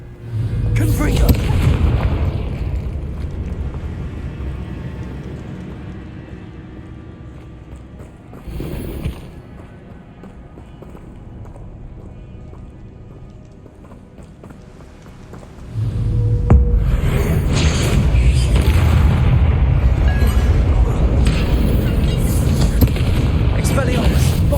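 Confringo spell blasts in Hogwarts Legacy boom out as loud, deep explosions, with heavy rumbling bursts early and late and a quieter stretch between, amid game combat noise and spoken spell names.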